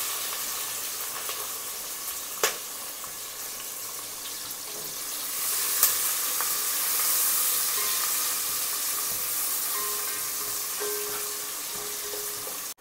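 Onion and green chili frying in hot oil in a pan for veg pulao, a steady close sizzle running throughout with an occasional clink of a stirring spoon and a swell as the onion goes in.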